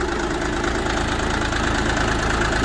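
A Chinese Rustrak R-244 tractor's engine runs at a steady idle, a dense, loud mid-low diesel drone with a fast knocking pulse that holds evenly throughout, close by and with no voices.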